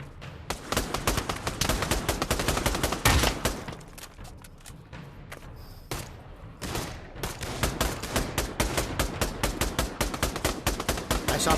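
Rapid automatic gunfire in the VR zombie shooter Pavlov, dense bursts of shots almost nonstop, with a brief lull near the middle before the firing resumes loud and close.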